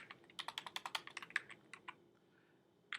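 Computer keyboard typing, a quick run of about a dozen crisp keystrokes followed by a pause and a couple of final taps, close and clear with no talk.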